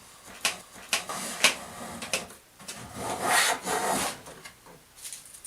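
A hand plane shaves thin curls from a piece of pine clamped to a worktop, giving several close, rasping wooden strokes with short pauses between them.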